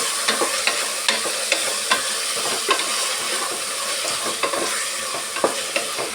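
Carrots, beans and peas fry in oil for a vegetable pulao. A steady close sizzle runs underneath, broken by regular sharp scrapes and taps of a spoon stirring the pan. No one speaks.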